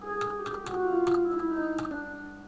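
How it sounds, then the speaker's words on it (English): Computer keyboard arrow keys are tapped several times while composing in MuseScore, producing light, irregular clicks over sustained synthesized music notes. "I'm going to lower it a bit using my cursor keys, not the mouse, not the buttons on the mouse"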